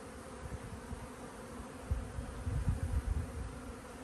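Honeybees drone in an open hive during an inspection, a steady, close buzzing that swells with louder, fluttering bursts midway through, with no talking.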